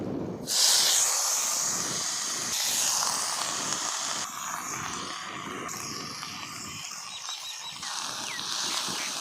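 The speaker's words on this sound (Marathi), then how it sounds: "आता हे धुवून घेऊन चिंच आपल्याला तेलामध्ये टाकायचं आहे" Loud continuous sizzling and hissing of tamarind frying in hot oil, holding steady throughout with no voices.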